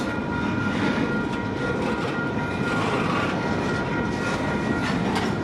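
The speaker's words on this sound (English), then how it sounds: "Here comes his DPU, alright." A freight train's rear DPU locomotive passes near, a steady heavy engine drone and rolling rumble over rail noise, continuous and fairly loud, with no voices.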